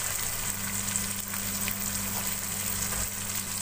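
Garlic and two tomatoes frying over low heat in a pan for mutton liver masala, a soft continuous sizzle with a faint steady hum underneath, quiet and close, no talking.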